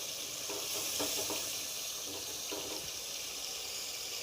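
Tomatoes and spices fry and sizzle in a karahi for chicken karahi, a steady close hiss with soft stirring scrapes through it.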